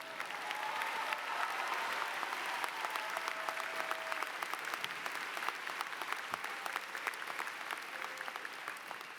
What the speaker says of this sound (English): Now please turn and receive further applause from your friends and family.